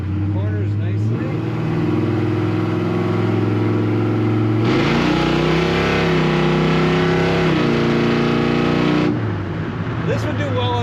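A 1970 Chevrolet C10 truck accelerating hard at about half throttle, its engine droning loudly and rising through the revs, with one gear change midway and the roar easing back near the end; voices are heard over the engine.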